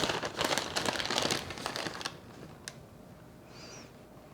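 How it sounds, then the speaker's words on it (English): Aluminum foil peeled off a baked spaghetti dish, a dense close crinkling and crumpling for about two seconds, then quieter rustles and a faint tap. "So I'm going to remove the foil."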